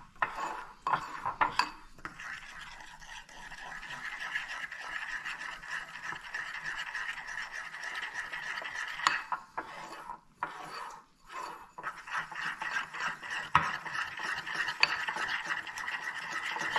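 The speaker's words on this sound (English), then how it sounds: "Give it a stir." Milk being stirred into a glaze mixture for a cherry Danish, a spoon clinking and scraping against a bowl in a steady run of close, bright strokes with a few brief pauses.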